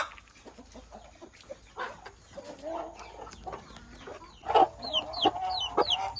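Native country chickens kept at home cluck at close range, soft scattered clucks building to louder calls, with a few high chirps near the end.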